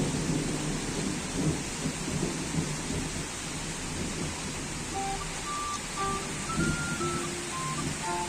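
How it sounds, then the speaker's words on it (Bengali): Steady heavy rain hisses throughout while low thunder rumbles faintly in the distance during an evening downpour, with a few soft tonal sounds near the end and no talk. "মেঘ ডাকছে কেমন"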